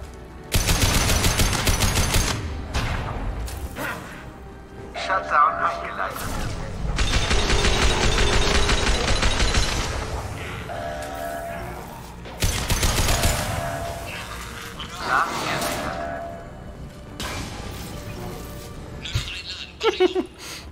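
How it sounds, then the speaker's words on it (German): Gunfire bursts and explosions from the video game Mass Effect 2 come in loud, dense volleys with brief lulls, mixed with game effects and a voice speaking. "Er ist noch explodiert, ich hab's noch gehört."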